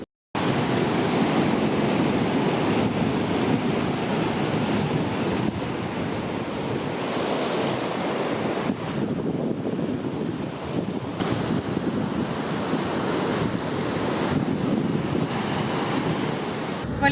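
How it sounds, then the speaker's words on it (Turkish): Powerful sea waves crash and roar continuously in Tayrona Park, Colombia, mixed with gusty wind across the microphone, loud and close with no voices. "denizin dalgaları çok sert bir şekilde sürüklüyor"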